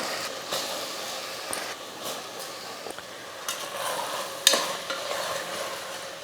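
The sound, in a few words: basmati rice sauteing with masala in a pan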